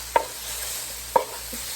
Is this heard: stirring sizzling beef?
yes